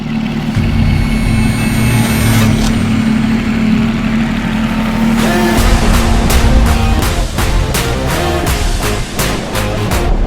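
A Porsche 911 GT3 RS with its 4-liter, 520-horsepower boxer six rumbles at a steady loud idle, then breaks into a run of sharp, rapid bursts and pops like quick revs, close up with no voices.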